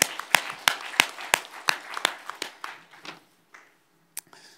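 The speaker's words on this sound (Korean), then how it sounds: "하나님께 박수로 영광" A church congregation claps in sharp, irregular bursts during a Korean worship sermon, loud at first and then thinning into a few scattered claps before fading out.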